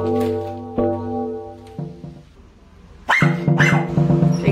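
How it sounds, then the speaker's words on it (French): A small dog gives a few loud, harmonic barks and yips, with a pause in the middle and a denser burst near the end, heard close by with no talk. "Suite à des jappements puissants de ce petit animal ici, j'ai été avisée de la réception de cette boîte."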